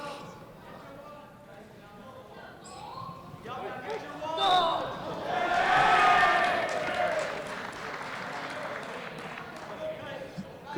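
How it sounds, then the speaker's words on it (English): High school supporters in a gym applaud and cheer at a wrestling match on senior night, a swelling mid-distance crowd roar that peaks and fades, with a commentator talking over it. "Good crowd reaction by the Wayland High schoolers coming to support their boys here on senior night."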